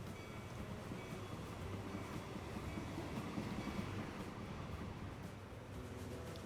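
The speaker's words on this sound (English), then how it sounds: "the meat train has already passed through and it's heading down this way" A freight train rolls past in the rail-management game Transport Fever 2, a steady, even rumble of wagons holding at one level throughout with no voices over it.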